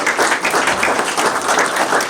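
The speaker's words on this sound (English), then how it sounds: "A nice round of applause for them" Loud, close applause at a public plan presentation for a square, as an audience gives a round of clapping for an engineering firm, dense and even in texture with slight pulsing.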